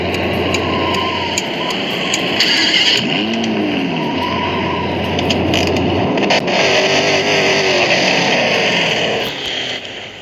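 A Lamborghini Urus engine revs in steady sustained bursts with rising and falling tones, loud and close, with a brief dip in the middle, and no talk.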